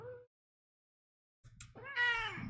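A female house cat gives a long, rising-and-falling meow with a hoarse, scratchy tone, preceded by a brief faint meow and a short rustle; close and clear, no talking.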